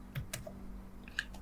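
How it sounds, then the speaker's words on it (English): Quiet clicks of typing on a computer keyboard, a few scattered keystrokes ending in a firmer press of the enter key, heard close against a faint hum. "in the search bar and hit enter on my keyboard"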